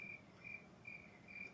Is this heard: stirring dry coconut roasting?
no